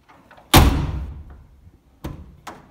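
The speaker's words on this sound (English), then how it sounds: "I just wanted to demonstrate to you how much better you can close the doors using these handles here" A Land Rover Series 3 door is pulled shut by its handle with one loud, close slam that rings out briefly. Two lighter knocks follow a moment later.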